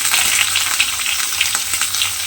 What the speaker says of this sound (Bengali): আলুটা দিয়ে এবারে তেলের মধ্যে এইভাবে জাস্ট একটু নেড়ে নেব